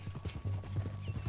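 Horse hooves clip-clop in a quick, steady rhythm in Red Dead Redemption 2, close and moderately loud, with soft ambient sound underneath.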